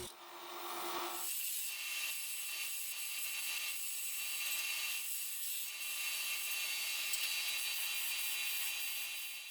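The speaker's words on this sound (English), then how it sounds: "When the skew chisel is sharp and the cut is done with the lower third of the edge, the shavings look like long ringlets" A sharp skew chisel cuts wood on a lathe, giving a steady, close hissing scrape that lasts the whole stretch, with a brief rougher rasp at the start and no voices.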